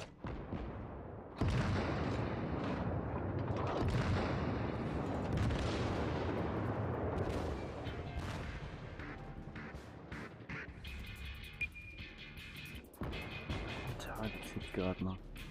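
Naval gunfire from warships in World of Warships: several heavy booming salvos and explosions, loud and close, spread across the stretch with rumbling battle noise between them.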